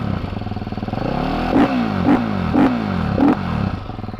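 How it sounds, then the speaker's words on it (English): Supermoto motorcycle engine running steadily nearby, then revved in four sharp, evenly spaced blips that rise and fall before settling back to idle. "Yeah, her bike sounds really good. Let's hear it."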